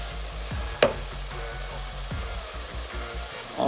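Onion and green chili puree frying in a pan, a soft continuous sizzle with faint scraping and a sharp tap of a utensil, quiet and close with no talking.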